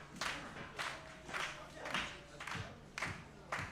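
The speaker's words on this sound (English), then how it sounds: "Giving Twitch the applause, getting the claps going here in the Monster Factory" Wrestling crowd at the Monster Factory clapping in a steady rhythm, roughly one clap burst every half second, a moderately distant room of hands beating together without talk.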